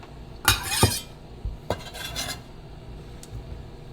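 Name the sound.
knife cutting boiled eggs into chunks on a cutting mat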